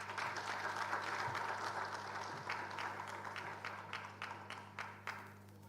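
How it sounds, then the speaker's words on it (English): Audience applause at the Ghana Football Association elective congress, a dense steady clapping from a large crowd that thins into scattered, separate claps toward the end, heard at moderate distance over a low hum. "I know you are clapping"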